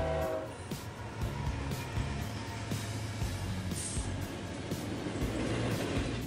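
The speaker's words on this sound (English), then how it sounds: "we also scored one train, which was primarily just made up of two BNSF Gevos" A freight train led by two BNSF GEVO locomotives rumbles past at steady volume, wheels clattering over the rails in a dense, continuous roar.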